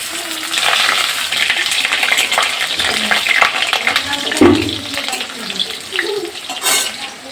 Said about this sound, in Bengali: এখানে দেখো তেল গরম করতে দিয়েছে